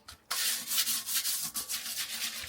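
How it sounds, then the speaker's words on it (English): A toilet bowl scrubbed with a toilet brush and shaving cream, a close, continuous rhythmic rubbing and swishing that starts after a brief quiet moment. "use your toilet brush to get it clean"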